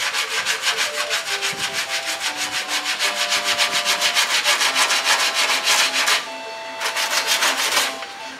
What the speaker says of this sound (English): That's when you want to stop sanding, okay?